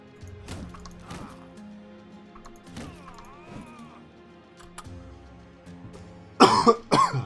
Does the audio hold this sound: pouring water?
no